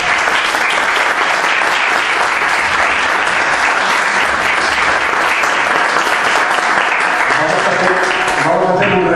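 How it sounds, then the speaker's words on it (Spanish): Audience at a UNED summer course in Cádiz gives sustained, loud applause, a dense clapping wash that thins toward the end. "Por favor, un caluroso aplauso."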